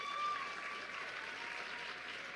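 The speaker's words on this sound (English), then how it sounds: "That deserves a round of applause" Faint audience applause at a public event kicking off a census campaign, a soft steady patter of clapping heard from a distance for a couple of seconds.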